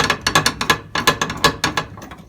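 Ratchet turning out brake booster bolts on a Nissan 240SX, loud close rapid clicking in quick bursts of several strokes with short pauses between them.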